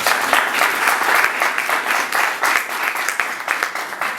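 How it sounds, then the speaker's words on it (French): A live audience at a music show applauds steadily and fairly close, a dense patter of many hands with no talking over it. "on va applaudir pour votre présence ce soir"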